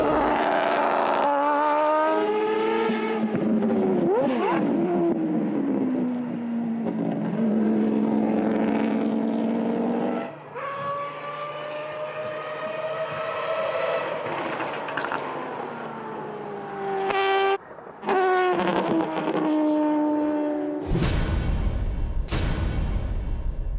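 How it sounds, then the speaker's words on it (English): Hoshino-san's race car engine screams at around 9,000 RPM during single-car drag racing, loud sustained revs climbing and falling in pitch, with brief drops between blasts and two sharp bangs near the end. "He's got this motor turned up full noise."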